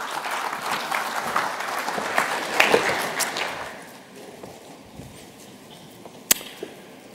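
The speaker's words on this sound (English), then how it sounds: "A round of applause for Richard Sykes," An audience at an industry forum evening session applauds a speaker's introduction; the clapping runs about four seconds, then thins into quiet room tone with a couple of sharp isolated knocks near the end.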